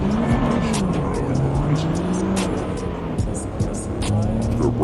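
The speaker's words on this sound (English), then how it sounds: "That's the wheel violently shaking when you hit me." Racing game car engine roaring with tire noise and rumbling, steady and loud, with sharp rattling bursts as the wheel shakes.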